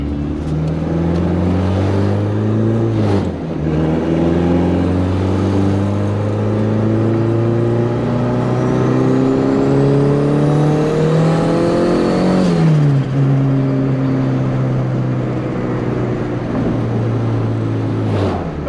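A turbocharged Honda B20 engine pulls hard in a car with a solid rear mount, its droning note climbing steadily through the gears. There is a brief dip at each shift, and the sound is loud and close from inside the cabin.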